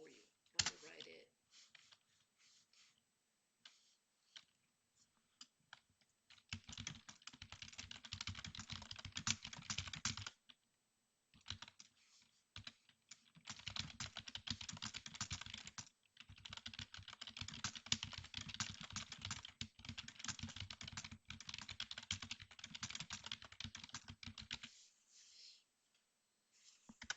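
Typing on a computer keyboard, quick bursts of close, soft clicking separated by short pauses, with a voice speaking faintly in the background at times.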